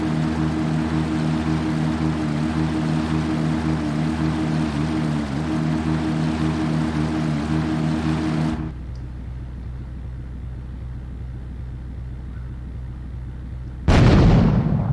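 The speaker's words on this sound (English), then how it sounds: "Or grenade fishing in this case." Grenades exploding in water in Grand Theft Auto 3, heard as a long steady rumbling roar that cuts off abruptly, a quieter stretch, then a sudden loud burst at the end.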